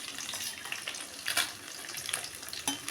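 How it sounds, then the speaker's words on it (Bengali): Pabda fish sizzle and crackle as they are laid one at a time into hot oil in a wok, a steady broadband frying hiss with a few louder bursts, close and without talk. "এবার আমি এক এক করে মাছ ছেড়ে দেবো।"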